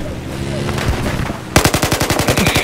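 Rapid automatic gunfire from a video game, a loud burst of evenly spaced shots in the second half after a quieter stretch of game sounds.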